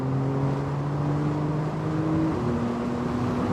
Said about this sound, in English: The downshifts, one of the best features in this car.